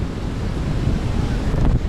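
Wind and ocean waves at Sea View Beach in Karachi in the early morning, a steady close roar of surf and gusting wind buffeting the microphone, loud and continuous with no voices.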